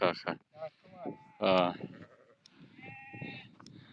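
Sheep bleat at a sheep-shearing day in the Ziddi mountains near Alam, with short, wavering calls mixed in among people chatting nearby.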